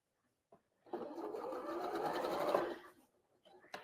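A sewing machine stitches a quarter-inch seam on a quilt block in one steady burst of rapid, close, fairly loud running lasting about two seconds, with brief clicks before and after and no talking.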